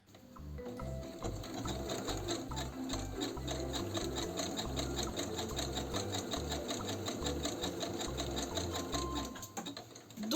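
A sewing machine runs a continuous overcast stitch along the edges of fabric for a child's face mask. It gives a fast, steady, close mechanical chatter for the full length with no talking.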